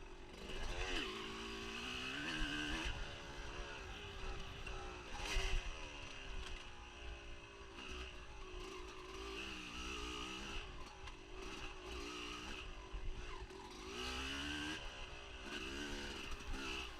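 A dirt bike races through the final section of an off-road GP course at a Fox Valley Off Road round. Its engine drones loud and close for the whole stretch, rising and falling in pitch as the rider works the throttle.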